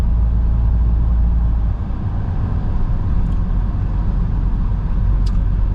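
A Peugeot drives through empty Bucharest city streets on Easter, with a steady loud low engine and road rumble heard from inside the car and a couple of faint high ticks.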